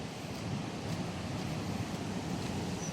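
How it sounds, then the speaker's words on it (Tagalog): Sea waves churning during Typhoon Uwan, a steady roar of surf with strong wind buffeting the microphone, loud and continuous with no talk. "Dinig na dinig dito yung ano, yung alon"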